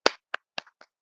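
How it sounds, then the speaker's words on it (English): Five sharp, isolated hand claps or snaps in quick succession, close and quiet, the first strongest and the rest fading, with no talk. "let me clap"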